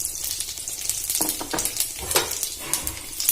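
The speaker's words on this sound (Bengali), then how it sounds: "এবারে ফোড়নের জন্য দিয়ে দেব তেজপাতা শুকনো লঙ্কা আর গোটা জিরে" A tempering of bay leaf, dried red chilli and whole cumin crackles and sizzles in hot oil. The frying noise is continuous and close, broken by stirring scrapes and small pops, with no voices.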